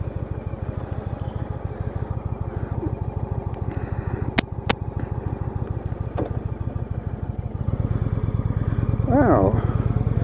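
A 2016 Indian Springfield motorcycle rides along with a steady, rhythmic low engine thrum that grows slightly louder near the end, heard close up with a few brief clicks and some talking.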